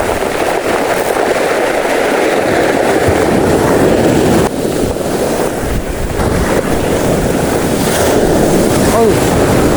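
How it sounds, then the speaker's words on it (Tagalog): Big ocean waves crashing continuously and loudly at a rocky fishing spot in Real, Quezon, heavily mixed with wind buffeting the microphone. "Grabe ang alon."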